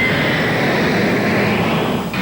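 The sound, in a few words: airplanes flying over homes near Congonhas airport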